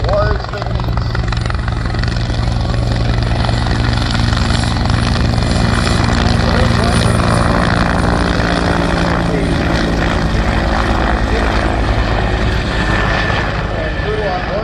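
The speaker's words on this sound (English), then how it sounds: "our Griffin helicopter has been cleared for liftoff coming in from the left." A Griffin helicopter lifts off at the 2023 Debert air show, its rotor and engine producing a loud, steady, close roar that holds from start to finish.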